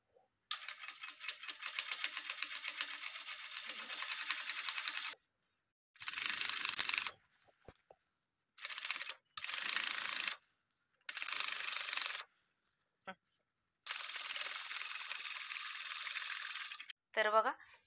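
A sewing machine stitches piping onto fabric cut from old jeans, running in bursts of steady whirring separated by short pauses, close and fairly loud.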